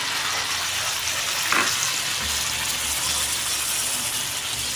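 Tomato paste fries with sautéed onions in a pan, giving a steady close sizzle with a brief stirring scrape partway through.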